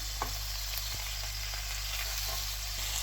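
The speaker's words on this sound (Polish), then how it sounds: "Smażymy jakieś 8 minut z jednej strony." Steady, even sizzling of bagels frying in a hot pan, a constant crackling hiss with occasional small pops, no voices.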